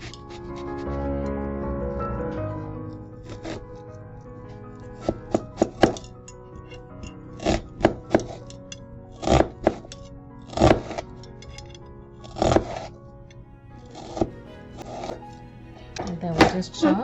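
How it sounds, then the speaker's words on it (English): Knife chopping onion on a cutting board, a run of sharp, close knocks in an uneven rhythm, some quick and clustered, with a brief low hum at the start. "And then we just chop."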